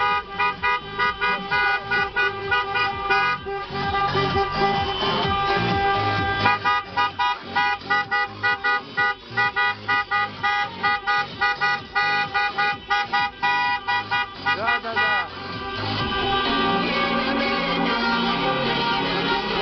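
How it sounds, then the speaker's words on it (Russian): A stationary column of cars sounds their horns during an evening street protest in Kyiv, producing a dense, continuous, loud honking of many overlapping toots and long blasts, close by. "машини просто стоять і сигналять отут"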